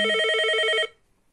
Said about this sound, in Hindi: जब हम इस पे फोन करते हैं तो ये बजता है